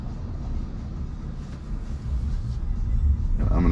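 A truck passes on the road beside a Tesla running Full Self-Driving beta v12.5.4.2, a steady low rumble that swells and grows louder toward the end, heard from inside the car.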